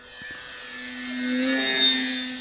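An E-Flite Decathlon RC aerobatic model plane flies on a calm, nearly windless morning, its steady electric motor whine rising and swelling as it passes nearer, then easing slightly, alone with no talk.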